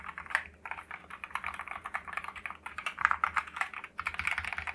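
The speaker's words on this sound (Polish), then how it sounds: "Tak brzmi sama klawiatura, nawet jak szybciej uderzam w klawisze." Fast typing on a mechanical keyboard with Akko Rosewood hot-swap switches: dense, quick, soft clacks in a continuous stream, close up and fairly quiet, with no talking.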